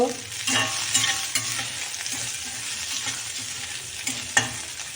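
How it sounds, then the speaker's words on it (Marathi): Green chillies frying over low heat in a pan, a steady crackling sizzle with scattered spatula scrapes and knocks, close and moderately loud, no speech. "आता ह्या मिरच्या चांगल्या मंद आशेवर बारीक डाग पडेपर्यंत त्यांना परतून घेऊया"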